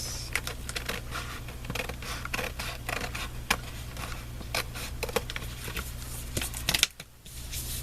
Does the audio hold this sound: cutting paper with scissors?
yes